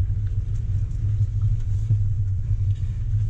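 A Range Rover Velar creeps along a trail in first gear with its transmission in sport, producing a steady low engine and drivetrain rumble throughout, with small bumps and rattles.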